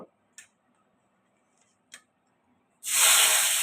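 Onions dropped into hot oil for a rohu fish curry, bursting into a loud, close, continuous sizzle after a few soft ticks and clinks.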